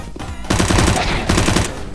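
Rapid automatic gunfire in Counter-Strike: Global Offensive, two loud sustained bursts of fast repeated shots separated by a brief pause, close and dominant.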